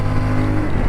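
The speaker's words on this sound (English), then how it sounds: "Very revvy motor." A CFMOTO 450MT adventure motorcycle engine revs hard and close during off-road riding while being short shifted, producing a loud, brief droning roar.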